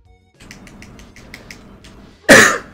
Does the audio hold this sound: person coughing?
yes